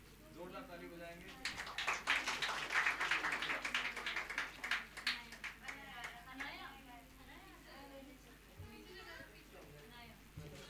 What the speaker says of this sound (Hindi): महिमा ने करिए, जोरदार ताली बजाएंगे।